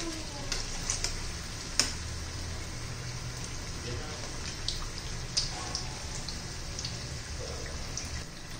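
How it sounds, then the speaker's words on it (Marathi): Chili bhaji fritters sizzle steadily in hot oil, a continuous soft crackle with occasional pops, while someone talks over the frying. "आता हे झालेले आहेत, मी काढून घेते आणि बाकीचे तळून घेते"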